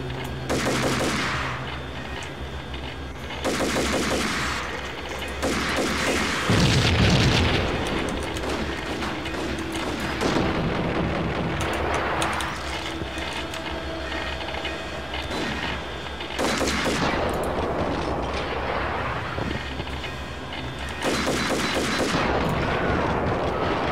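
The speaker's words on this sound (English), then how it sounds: "that guy just shot his own teammate" Sustained gunfire from the Max Payne video game, with rapid bursts and heavy shots repeating across the whole stretch, loud and dense, with booming impacts and no talk over it.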